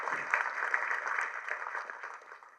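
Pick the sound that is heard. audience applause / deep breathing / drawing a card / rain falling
audience applause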